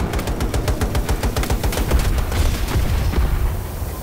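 Sustained rapid gunfire from Battlefield 2042 Conquest on Xbox Series X, dense overlapping bursts and automatic fire rattling loudly and continuously with no pauses for the whole stretch.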